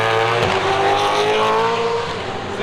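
Dunlop Super2 series supercars at the Adelaide Grand Final, a loud close engine roar with pitch sweeping down as a car passes, tyres briefly squealing, no talk.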